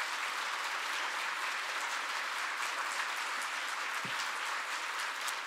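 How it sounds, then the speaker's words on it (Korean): A congregation at a special dawn prayer service claps to welcome the pastor, a continuous wash of applause that stays even and moderately distant throughout, with no voices over it. "큰 박수로 맞이해 주시면 감사하겠습니다"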